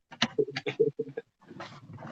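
A German Shepherd puppy whimpers and whines in a quick string of short, high cries, pausing briefly before a softer, longer whine.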